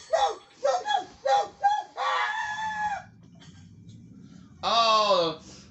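Chickens cluck in a quick series of short, close calls, followed by a longer squawk and then a louder drawn-out call near the end, over a low background rumble.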